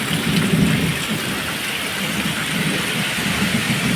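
Dense, loud downpour with thunder in the Gir area, a constant roar and low rumbling underneath, steady throughout with no pauses.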